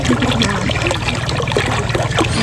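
Clear stream water flowing steadily at an outdoor bathing spot, a loud, continuous trickling and gurgling rush close by, with no talk over it.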